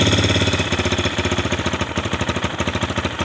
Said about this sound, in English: You notice how his RPM going back up.